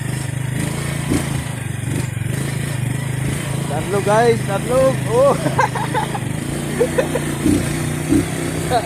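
A motorcycle engine runs steadily beneath a road trip through farmland, its low drone continuous throughout while people talk and shout over it close by.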